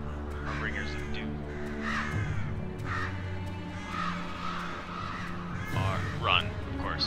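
Crows cawing in a video game, repeated harsh calls rising over a steady low musical drone, with a person talking throughout.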